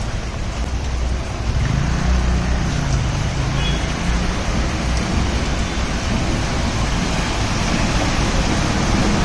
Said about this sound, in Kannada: ನೋಡಿ, ಬಸ್ಗಳು ಬರ್ತಾ ಐತೆ.